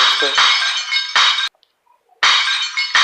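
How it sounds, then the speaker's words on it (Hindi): Synthetic glass-shattering effect from a phone screen-crack prank app, three sharp crashing bursts of breaking, tinkling glass, the middle one cut off by a brief silence before the last plays loud and close. "ये ऐसे ही लगेगा कि आपके मोबाइल का शीशा टूट गया है"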